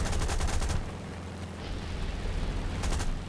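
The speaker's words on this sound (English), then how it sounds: "The MG is very effective on these soft targets" Bursts of rapid machine gun fire from a Boomerang Mk I fighter in War Thunder crackle loudly at the start and again near the end, over a steady rumbling aircraft engine drone.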